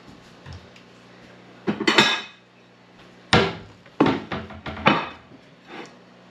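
Dishes and a plate being handled in a kitchen while making pizza dough, giving several sharp clinks and knocks spread over a few seconds, close and fairly loud, with quiet gaps between them.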